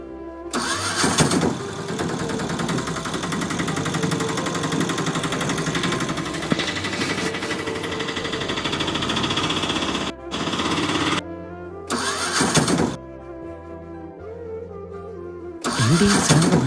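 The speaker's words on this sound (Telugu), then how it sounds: "ఏంటి సడన్గా బండి అయిపోయింది, స్టార్ట్ అవ్వట్లా" A vehicle engine cranks but fails to catch, in several loud bursts of grinding turnover separated by short pauses, the last attempt cutting off abruptly, with no talk over it.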